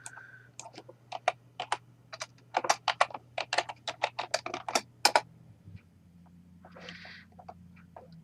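A password being typed on a computer keyboard: a quick, uneven run of crisp key clicks, close and clear over a faint steady hum, tapering into a few scattered taps.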